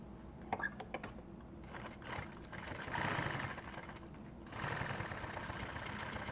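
Sewing machine stitching nylon tactical gear, a steady mechanical run with a short burst early on, then longer continuous stretches that grow louder toward the end.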